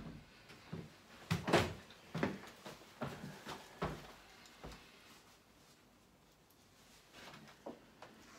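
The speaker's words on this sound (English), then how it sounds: "I'm going to shut this door here." Several soft thumps and clunks spaced across a quiet room, like a door being pushed shut and latching, with faint handling noises between, during setup of a damp-treatment system.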